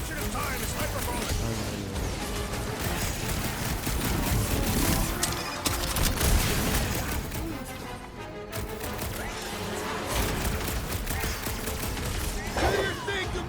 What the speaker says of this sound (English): Fireworks! These things would have come in handy a second ago.